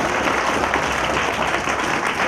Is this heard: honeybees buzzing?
no